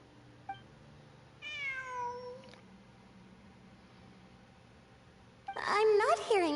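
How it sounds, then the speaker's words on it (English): A cat in the Genshin Impact video game gives a clear, drawn-out meow, followed after a pause by a louder, wavering meow mixed with a person talking over the game. "It really is a cat."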